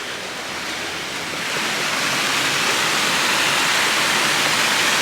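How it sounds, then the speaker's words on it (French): A small stream of running water makes a steady, close hiss of rushing flow that swells slightly after the first second and holds loud to the end, with no voices. "C'est comme un petit ruisseau"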